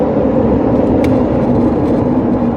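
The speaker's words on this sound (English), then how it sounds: "Here I get paddle shifters, so, and it picks up, and I'm gonna do it again right here." A Honda Ridgeline pickup pulls on twisty roads after a paddle shift into fourth gear, its engine and road noise a loud, steady drone heard from inside the cab, with no talking.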